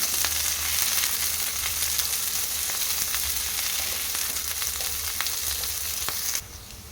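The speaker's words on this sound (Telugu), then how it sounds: "ఆయిల్ హీట్ అయిన తర్వాత ఆనియన్ వేసుకోవాలి ఫ్రై చేసుకోవాలి ఆనియన్ని ఫ్రై చేసుకోవాలి" Continuous crackling sizzle of onions frying in hot oil, close and steady, with brief pops; the sizzle drops off sharply near the end.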